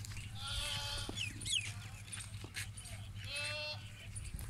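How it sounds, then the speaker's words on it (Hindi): Two drawn-out, wavering goat bleats, one early and one later, ring out at a crowded livestock market in Pakistan, with people talking nearby and general bustle underneath. "ये बकरा देखें, बहुत खूबसूरत चीज़ है।"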